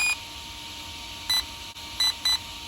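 Electronic speed controller on an ARRMA Typhon 3S BLX V3 RC car emitting programming beeps: a steady high tone with a few short beeps layered on top, close and clear, with no talking.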